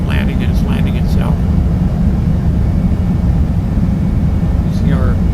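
Constant loud cockpit rumble of a Carenado Citation 550 business jet on autopilot during an LPV approach in a flight simulator, a steady drone beneath someone speaking and short synthetic callouts.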